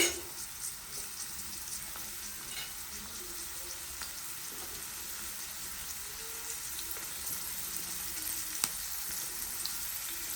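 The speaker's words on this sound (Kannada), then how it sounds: "ಸ್ವಲ್ಪ ಗೋಲ್ಡನ್ ಕಲರ್ ಬರೋವರೆಗೂ ಸ್ವಲ್ಪ ಫ್ರೈ ಮಾಡ್ಕೋಬೇಕು" Garlic and four chillies frying in a pan for hotel-style spicy egg curry give a steady, close, even sizzle with faint crackles, holding at a constant level throughout without any talking.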